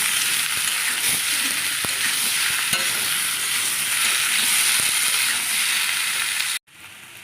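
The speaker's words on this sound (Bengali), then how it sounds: "তেলটা গরম হয়ে গেছে এবার সেদ্ধ করে রেখেছিলাম এঁচোড় আর আলুটা এর মধ্যে ঢেলে দিয়ে তুলে নেবো" Boiled green jackfruit and potato fry in hot oil with a steady, loud sizzle and a few faint utensil taps, then the hiss cuts off abruptly near the end. No one speaks.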